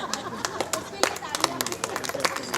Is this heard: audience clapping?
yes